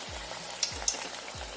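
Sweet pumpkin puris (gharge) fry in hot oil, turned over as they cook, producing a close, steady bubbling sizzle with a few light pops and soft clinks.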